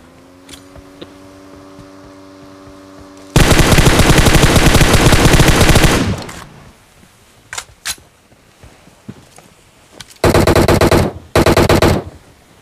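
M4 rifle firing a sustained spray in the video game PUBG: a long loud burst of rapid fire, then scattered single shots, then two more short close bursts.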